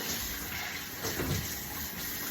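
Shower water rinses over a body in a continuous close hiss of spray, steady and unbroken, with no voices.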